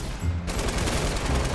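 Heavy shotgun blasts in Fortnite, loud booming shots in a dense rapid cluster with no pause, close and forceful.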